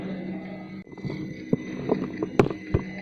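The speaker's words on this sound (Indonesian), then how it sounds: "MTR on, artinya motor sedang menyala" Electric motor running in an Arduino-controlled tensile test machine: a low, steady mechanical hum that briefly drops out, then returns with scattered clicks and knocks from the rig.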